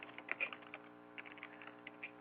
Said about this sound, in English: there on the chat session, I'm actually typing in